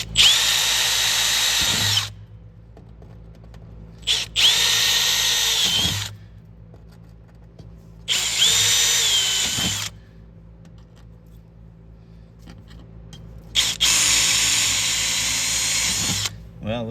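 A power drill fitted with a 532 bit runs in four loud bursts of roughly two seconds each, separated by quiet gaps, close to the listener.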